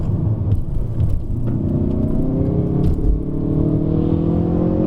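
A Hyundai i30 N with traction control off accelerates hard up a hill road in Malaysia, a loud close engine roar rising in pitch through the gears over steady road rumble.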